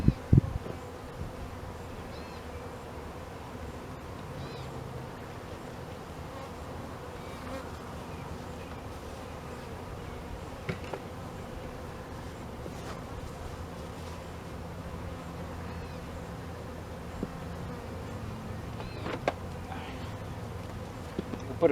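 Honey bees buzz steadily around hive frames during an outdoor hive dump, a continuous close drone lasting throughout with a few faint knocks and handling sounds.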